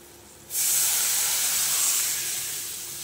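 A sudden loud hiss erupts as water hits hot oil with fried broad beans and five-spice seeds, then continues as a steady, intense sizzle that slowly eases off.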